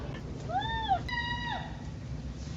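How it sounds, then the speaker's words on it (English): Two cat meows from a Ragdoll cat close together, the first a rising-falling call, the second shorter and clipped, against a low background rumble. "I loved Caymus's meow"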